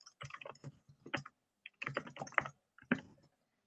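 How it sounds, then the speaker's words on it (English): Fingers type on a computer keyboard in quick bursts of close, crisp key clicks separated by short pauses. "Let me type it."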